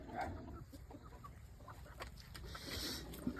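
A country hen being lifted off a nest of eggs clucks softly and intermittently, a low murmuring cluck with a brief sharper note near the end, over steady background noise.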